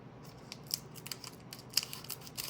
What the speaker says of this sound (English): It's got my scissors. Scissors aren't working too well for me.